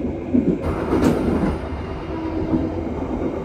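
Passenger train Rajabasa, hauled by a CC201 locomotive, rolling through forest between Air Asam and Sukamenanti, heard from on board as a steady rumbling run with a faint repeating clickety-clack of wheels over rail joints throughout.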